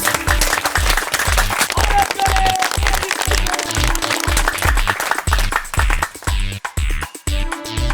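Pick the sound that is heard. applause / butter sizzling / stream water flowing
applause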